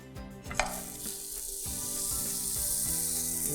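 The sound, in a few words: cheese and chocolate sandwich sizzling as it is flipped in pan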